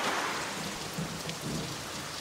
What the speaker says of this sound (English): So rainy.